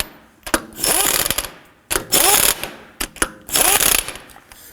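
Ratchet wrench snugging the lug nuts on the front wheel of a 2005-2009 Subaru Legacy, heard as three loud bursts of rapid clicking separated by short pauses. No one talks.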